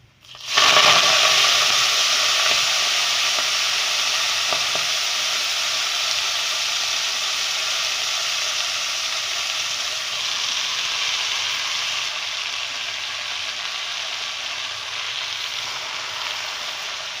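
Mustard greens for sarson ka saag dropped into hot oil with golden fried garlic, bursting into a sudden loud sizzle that settles into a long, steady steaming hiss which slowly fades.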